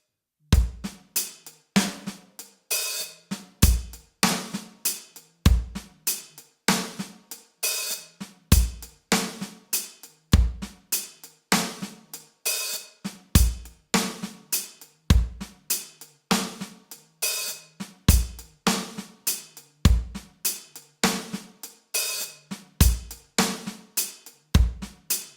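Drum groove on an acoustic kit, played note for note with steady hi-hat over regular kick and snare hits, a repeating pattern heard alone and close throughout.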